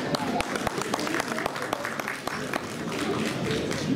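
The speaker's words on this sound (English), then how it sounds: "Round of applause, please." Round of applause at a mosque community fundraising event, distinct individual claps rising over a murmuring crowd with voices talking through it.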